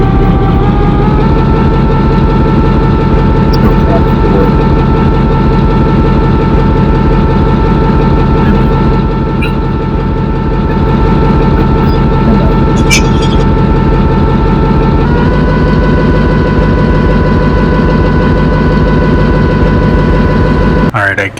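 A heavy diesel locomotive engine in a train video game rumbles steadily at close range, its deep throbbing drone shifting pitch slightly partway through.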